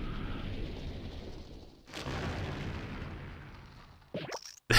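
A bomb explodes in the video game Mario & Luigi: Superstar Saga: a steady broadband rumble, a sudden louder blast about halfway through, then a few sharp crackling bursts near the end, with no voices.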